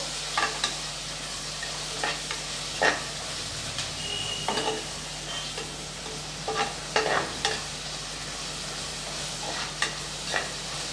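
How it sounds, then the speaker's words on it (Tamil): Onions sauté in a pan for vegetable biryani, a low continuous sizzle broken by intermittent scraping stirs of a spoon against the pan, close and moderate, with no talking. "இதை நல்லா வதக்கி விட்டுக்கலாம்"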